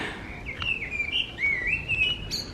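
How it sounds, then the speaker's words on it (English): A small bird chirping high on a rooftop terrace in Barcelona, a series of thin, sliding whistled notes close and clear over faint background hum. "Oh, look at the bird."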